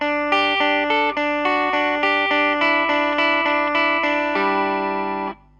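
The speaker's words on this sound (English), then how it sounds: "So I'll play the riff with just the amp tone." A bright, clean electric guitar rings out a jangly arpeggiated riff, notes sustaining and overlapping, ending on a held chord that fades.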